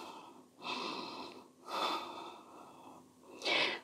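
During a yoga pose, a person takes slow, deep, full breaths close to the microphone, with several long airy inhales and exhales rising and falling in a steady rhythm.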